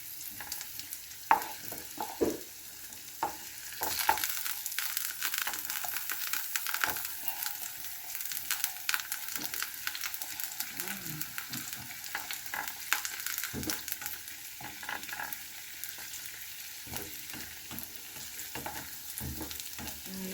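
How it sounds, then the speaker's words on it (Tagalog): Steady crackling sizzle of potatoes frying in a pan, with occasional stirring scrapes and clinks, close and continuous with no talking. "Prito ko dito sa gilid ang ating patatas."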